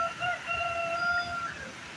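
Rooster crowing at a distance, faint drawn-out calls over soft outdoor background noise.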